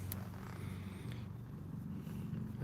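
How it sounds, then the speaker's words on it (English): Soft, continuous low purring from a cat close by, steady and rumbling with faint background noise. "I hope you guys can hear her purring for us,"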